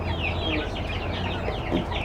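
A flock of chickens in a poultry house, overlapping clucks and chirpy calls close by over a low background hum, busy and continuous.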